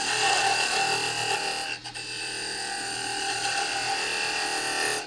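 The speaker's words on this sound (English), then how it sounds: "Using this beading and parting tool, a little bit like a skew" A wood lathe spins a gavel handle as a beading and parting tool cuts, giving a continuous bright scraping whine with a short dip partway, then steady cutting to the end.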